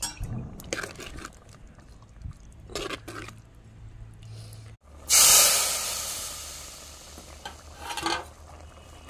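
A hot tempering of spices hits thick elephant foot yam curry in the pan with a sudden loud hiss at the midpoint, then settles into a steady fading sizzle, following quieter stirring and clinking.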